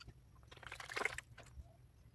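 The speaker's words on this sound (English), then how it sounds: "drag the material into the center of your pan, then sluice slowly" Water sloshing faintly in a gold pan as crushed rock material is swirled during panning, a quiet, close burst of splashing and trickling.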